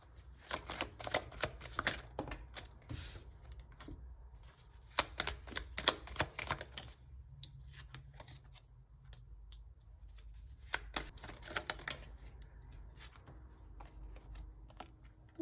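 Playing cards are shuffled and drawn during a tarty-style card reading, with repeated riffling bursts and soft flicks of cards close to the microphone, coming in clustered rhythmic bursts separated by quieter pauses, with no voice.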